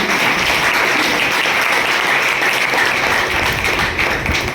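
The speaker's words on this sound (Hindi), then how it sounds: "एक बार जोरदार ताली।" Audience at an RCM business seminar breaks into loud, sustained applause, dense clapping filling the room evenly from start to finish with no voices over it.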